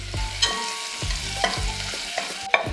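Chopped ginger, garlic and onion sizzle and crackle in a hot pan, with a few sharp clinks and scrapes of a spoon stirring at irregular intervals.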